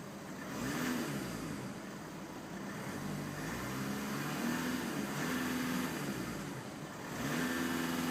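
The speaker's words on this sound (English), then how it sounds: "let's give this A3 TDI a quick rev" A 2011 Audi A3 TDI diesel engine is revved repeatedly, with the engine note rising and falling in several steady swells that cut off at the rev limit. It is heard at moderate loudness.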